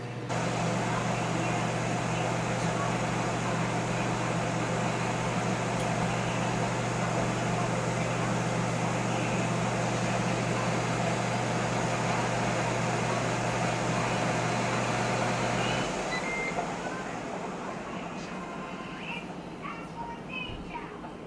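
Steady whirring hum and fan noise from an air fryer cooking ribs, running at constant level for about sixteen seconds before the motor tone drops away and the sound fades.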